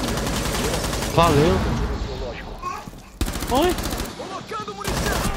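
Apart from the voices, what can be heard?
gunfire in video game Rainbow Six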